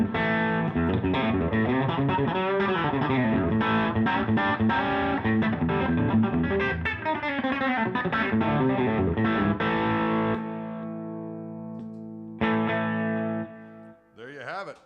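An electric guitar is played through a small overdrive pedal live in the Orange Room: loud, gritty, busy lines, then sustained chords that ring out and fade toward the end.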